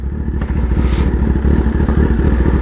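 A Kawasaki ZX-10R sport bike pulls away in first gear on a rough road, its engine a loud, close, rapid pulsing drone with a brief rattle early on.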